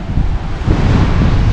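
Strong wind buffets the microphone on a stony Atlantic Ocean shore, with a steady low roar of modest waves and surf underneath, loud and continuous with no talking.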